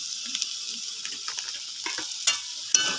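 Cauliflower, potato and other vegetables fry in a pan with a continuous soft sizzle, broken by light scrapes and a couple of sharper clacks of stirring near the end.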